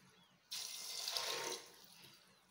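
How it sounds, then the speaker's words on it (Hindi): Water pours into a pressure cooker holding soaked peas, starting abruptly, running as a steady splashing stream for about a second, then fading to quiet. "ये हम इसमें 2 ग्लास तक पानी डालेंगे।"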